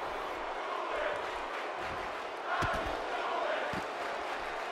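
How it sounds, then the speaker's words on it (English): Wrestling video game arena crowd, a WWE Monday Night Raw brawl with Enzo and Cass, Chris Jericho and Kevin Owens, keeps up a steady broad roar with a swell of cheering and a few sharp thuds from the ring. "Crowd getting back behind Enzo and Cass"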